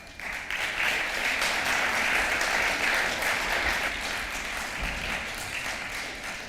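A crowd at the 2025 Baillie Gifford Prize winner announcement applauds steadily for several seconds, a dense wash of clapping that holds level and then begins to taper off slightly.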